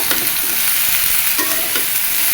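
Eggplant and soybean chunks fry together in a pan, a loud, dense close-up sizzle with a few soft stirring knocks, no talking.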